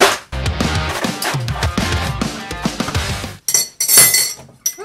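Ice cubes tumble into a glass for a Campari cocktail, a dense rattling clatter of cubes knocking together, then a short pause and a few brighter, sharper clinks near the end, close and fairly loud.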